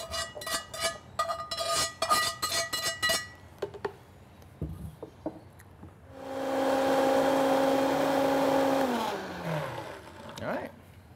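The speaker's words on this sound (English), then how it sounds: "just throw the entire contents into our blender here" Clinking and tapping of containers give way to a blender whirring loudly for a few seconds as it purees black beans, its pitch dropping as it winds down.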